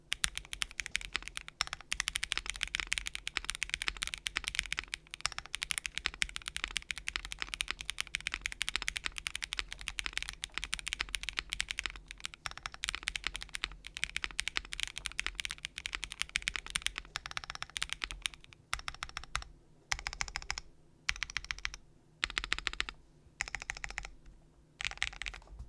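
Typing on a custom mechanical keyboard with KTT Vanilla Ice Cream linear switches, DSA Astrala keycaps and an Icon Mods kit: dense, continuous close-up clacking that breaks into shorter bursts separated by pauses near the end.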